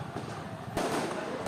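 Firecrackers set off during a street brawl in the Manggarai tunnel in South Jakarta amid thrown stones, a sharp distant bang rising out of a rumbling crowd noise, followed by another crack near the end.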